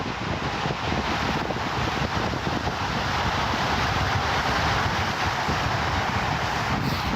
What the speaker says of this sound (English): so we get a bit closer so you can hear the waves better?